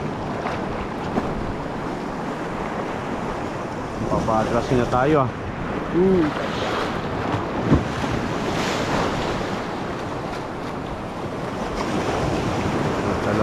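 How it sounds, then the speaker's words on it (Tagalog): Ocean waves and wind at sea from a fishing boat, a continuous rushing wash with gusty buffeting on the microphone, a short burst of talk near the middle and swells rising toward the end. "Yun na, mga alon."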